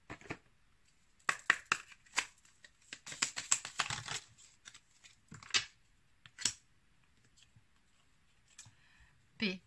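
Angel oracle cards being shuffled and drawn, a quiet flurry of crisp card flicks and clicks in the first half, then a few isolated taps.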